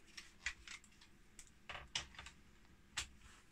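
A ZX Spectrum Plus keyboard being turned over makes several light plastic clicks and taps, close by and quiet, scattered irregularly through a few seconds.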